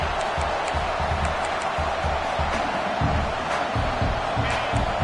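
Stadium crowd at a football game, a loud continuous roar of many voices with rhythmic low thumping and scattered shouts, dense and distant-sounding without distinct speech.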